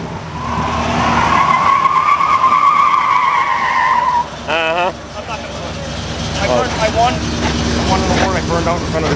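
Tires shriek in a loud, steady burnout from a Plymouth Barracuda on 13-inch tires at a muscle car show, the squeal holding for about four seconds before cutting off, followed by shouting and crowd chatter.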